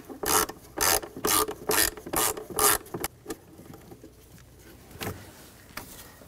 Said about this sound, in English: Using a T20 socket,